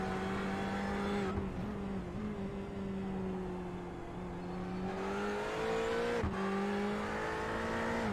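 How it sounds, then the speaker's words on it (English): Ferrari GTE race car in a racing game at Road Atlanta, its engine droning steadily and loudly as it bounces over curbs, with brief shifts in pitch and short gear-change dips, no talk. "You can hear the Ferrari just clamber over those curves"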